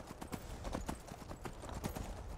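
A horse's hooves clip-clopping at a steady trotting rhythm in the Skyrim video game, close and continuous, with no clear whinny standing out.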